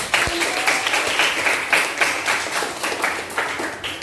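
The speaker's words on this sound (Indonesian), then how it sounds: "itu tepuk tangan dong" Students in a classroom clap steadily for a classmate, a dense, sustained round of applause that continues evenly throughout.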